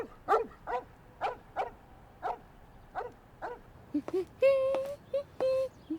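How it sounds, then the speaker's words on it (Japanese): A dog barks repeatedly in a steady rhythm, then breaks into higher yips and whining cries, fairly close and loud. "ムカつくんだよあの犬。"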